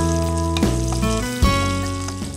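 Finely chopped green chillies and chana dal fry in a pan with a steady sizzle, under loud background music.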